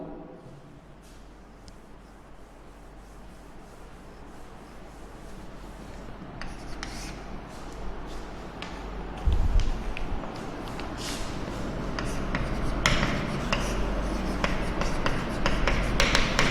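A pen writes on paper during a Sanskrit lesson, giving continuous scratchy strokes with small taps that grow gradually louder and denser, close to the microphone.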